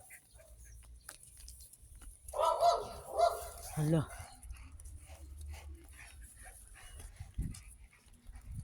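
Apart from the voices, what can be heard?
abandoned dog barking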